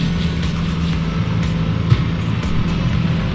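Car and tractor engines battling in the Wobbly Life video game: a steady low motor drone with slight revving fluctuations and a brief bump midway, loud and close, with no talk over it.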